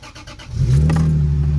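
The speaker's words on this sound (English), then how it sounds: "The car runs amazing now" A Lexus IS300 engine freshly back together after a timing belt, water pump and seal job, starting up with a few quick cranking pulses before catching and settling into a smooth, close, loud idle with a strong low hum.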